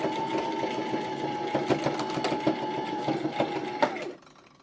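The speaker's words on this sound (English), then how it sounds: "And let's run it over 2 or 3 times." Sewing machine running steadily as it stitches elastic onto a fabric bandana headband, a continuous close whirring with a fast mechanical rhythm that stops abruptly near the end.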